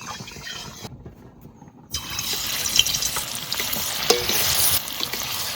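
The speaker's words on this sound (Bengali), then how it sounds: "সর্ষের তেল দিয়ে এবার মাছটা ভেজে নিই" Fish frying in hot mustard oil in a home kitchen, a steady crackling sizzle that swells louder about two seconds in, with faint stirring and clinks, close and without talk.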